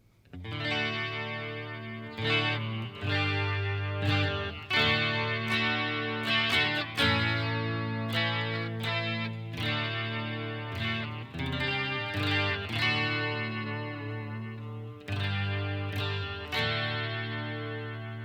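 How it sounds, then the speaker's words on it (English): Clean electric guitar plays alone through a coil-split bridge pickup, a steady run of plucked notes and chords that ring out and decay between strums. "we'll start out with the coil split on the bridge pickup here and let you hear some clean tones"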